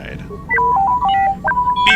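The T3 droid in Star Wars: Knights of the Old Republic gives a quick run of electronic beeps and warbling tones at shifting pitches, loud and close, over a low background hum.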